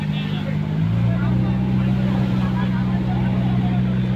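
A trawler's engine drones steadily and close at hand, a continuous low rumble with a strong hum that stays loud throughout, with faint voices behind it.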